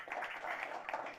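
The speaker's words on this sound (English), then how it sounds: "A round of applause." A conference audience at a business panel in Lisbon applauds a guest called to the stage, with steady mid-loud clapping and no pauses.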